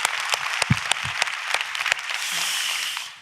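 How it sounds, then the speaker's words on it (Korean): A church congregation claps, a few sharp isolated claps at first swelling into fuller, steady applause that fades near the end. "좋으신 하나님께 박수로 감사합니다"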